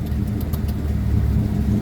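A 1954 Ford Popular 103E engine runs with the choke pushed all the way in, a steady close, loud idle with a low, even chug and a slight rise in revs partway through, no talking.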